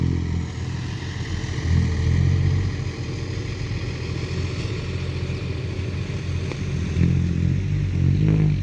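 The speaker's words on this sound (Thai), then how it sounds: "นี่เสียงท่อยังเดิมเดิมเลยยังไม่ได้วน" An Isuzu Deca truck with its original stock exhaust idles steadily nearby, a low rumbling, clattering diesel drone that swells slightly now and then.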